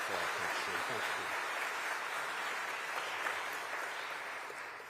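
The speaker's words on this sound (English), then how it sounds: "Go on, show them an applause for what they're doing for our country." An audience at an AI conference applauds probation workers, steady even clapping with no gaps that runs throughout and fades slightly toward the end.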